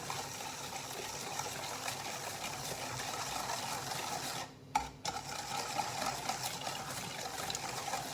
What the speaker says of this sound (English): So with that all together, you're just going to whisk it together.